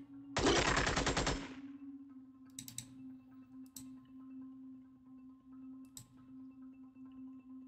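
A single loud burst of rapid automatic weapon fire in Xenonauts, roughly a second of tightly spaced shots, then a few faint clicks over a steady low electronic hum.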